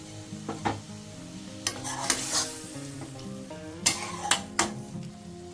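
Whole green chillies hit a pan of prawns and taro leaves, giving a steady close sizzle of frying with a few sharp clinks and stirring scrapes of utensil against the pan.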